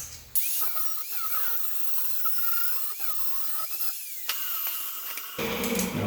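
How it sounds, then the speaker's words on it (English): A power grinder working a metal weld flat on a custom car trunk latch part, giving a continuous high whine with wavering pitch and brief bursts as the disc bites, loud and close. "We're going to grind that flat so we have a nice top surface to sit up against the sheet metal inside the trunk"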